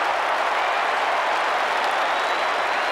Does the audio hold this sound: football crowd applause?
yes